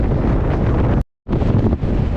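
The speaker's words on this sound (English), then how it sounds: "It's extremely windy and cold." Loud, buffeting wind roars against the microphone on the cold summit of Skiddaw in the Lake District, cutting out for a moment before gusting back in at full strength.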